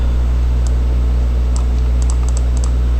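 A few light, sharp keyboard clicks as the Ctrl key and other keys on a computer keyboard are pressed, scattered and fairly faint over a steady low electrical hum.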